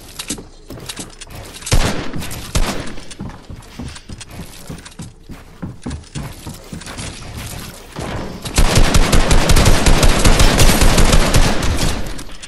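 Loud, close weapon fire from the video game Fortnite, a shotgun in a firefight: a rapid, irregular string of cracking blasts that builds into a dense, continuous roar of hits and impacts in the final seconds.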